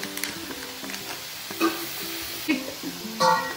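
A handful of cashews tossed into a hot pan while cooking butter chicken, with light sizzling and a few soft clinks and stirring scrapes close by, no talk.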